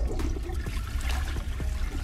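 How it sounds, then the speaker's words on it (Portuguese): Toilet flushing in a video game: a steady gush and trickle of water running continuously for about two seconds at moderate level, with no voices. "Deu a descarga."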